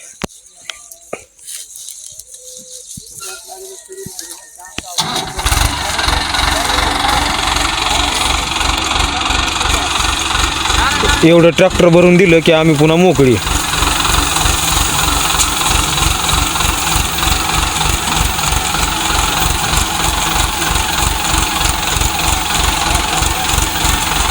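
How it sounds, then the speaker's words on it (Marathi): A tractor diesel engine starts up and runs loudly and steadily at close range, with a rhythmic knocking throb and a brief surge midway, sustained for about twenty seconds. "आता आले आमचं ट्रॅक्टर"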